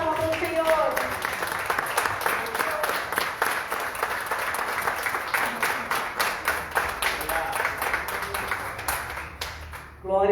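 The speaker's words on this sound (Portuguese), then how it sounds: "Dá uma salva de palmas para o Senhor." A church congregation applauds steadily for several seconds, dense clapping that fades near the end, with voices rising through it.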